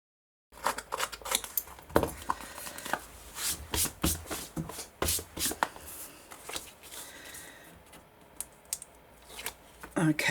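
Scissors scraping and snipping along the edges of a paper tag to distress it, close, irregular rasping bursts with short pauses, no voices.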